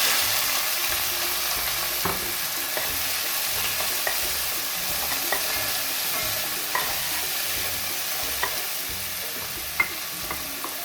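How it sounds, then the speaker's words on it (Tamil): Onion and green chili frying in oil after fennel seeds have crackled, for a Tamil fish curry: a steady, close sizzle with small scattered pops and stirring scrapes throughout, with no talk. "பெருஞ்சீரகம் பொரிஞ்சிட்டு இனி நாங்கள் வெங்காயமும் பச்சை மிளகாயும் போடுறோம்."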